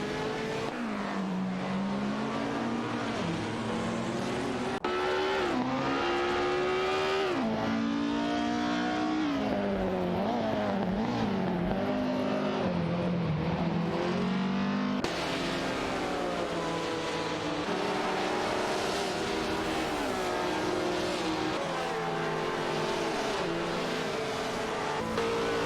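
Race cars in a video game roar continuously, with engine pitch repeatedly climbing and dropping through gear changes and overlapping whines from several cars.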